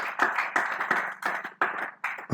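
A church congregation claps in a series of loud, close bursts of applause, broken by short pauses and fading briefly between rounds.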